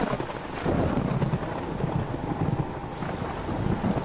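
Cartoon rain and thunder in a SpongeBob episode: a steady, dense hiss of rainfall over a low rolling rumble, continuous and without speech.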